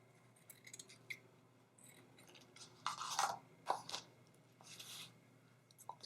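Scissors snipping through burlap ribbon for a blue and green deco mesh wreath, a few crisp, close cuts clustered midway with quieter handling rustles around them; no one speaks.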